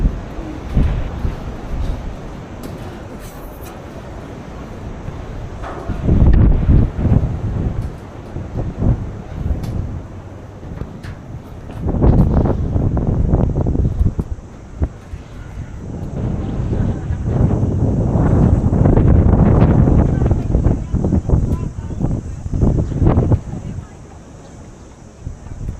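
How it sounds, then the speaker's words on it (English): Wind buffets the microphone at the open top of a tall tower reached by a steep staircase in Transnistria, rising in loud rumbling gusts that swell and fade over the half minute, with faint talk at moments. "Windy up here."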